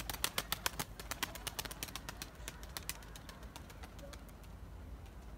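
Birds land nearby with a rapid flurry of wing flaps and clicks, busiest at first, then thinning out over soft outdoor background noise.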